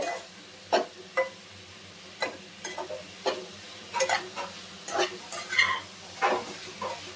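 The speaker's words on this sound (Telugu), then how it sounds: "ఇలా మిక్స్ చేసుకోవాలి అంతే." Cabbage fry with coconut and green chilli paste stirred in a pan, the spoon scraping in short irregular strokes over a soft sizzle, close and fairly quiet, with no voices.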